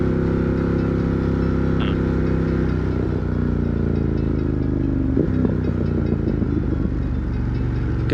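A Ducati Streetfighter V4S motorcycle engine idles nearby with a steady, throbbing rumble, with brief revs and light mechanical clatter rising over the running engine.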